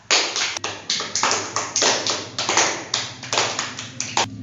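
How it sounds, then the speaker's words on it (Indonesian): A class of primary school pupils claps for a classmate, a dense, steady burst of many hands clapping in quick uneven pulses, close and loud, with no talking. "silahkan beri tepuk tangan kepada Absa"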